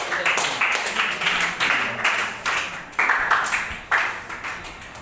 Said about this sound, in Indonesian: mau tepuk tangan untuk dia dan kita semua